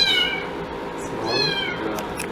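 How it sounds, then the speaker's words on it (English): A cat meows loudly and insistently, two drawn-out cries close by with a brief pause between them. "Kitty, you're too loud."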